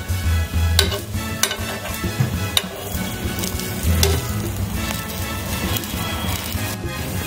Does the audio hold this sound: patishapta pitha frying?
yes